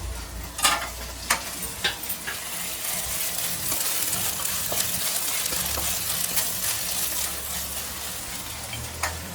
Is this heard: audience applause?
no